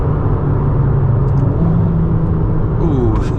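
Ferrari SF90 hybrid supercar accelerating hard, a loud continuous engine rumble and whir building steadily, close by and dominating throughout.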